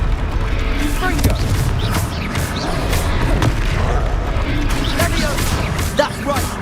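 Fiery Confringo spell blasts in a Hogwarts Legacy duel, landing as dense repeated bursts and crashes amid continuous loud combat noise, with a voice calling out spells over the action.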